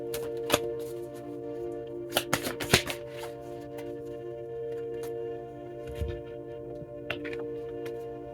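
Angel number oracle cards are shuffled, giving a few quick papery riffles and scattered taps over a faint steady hum.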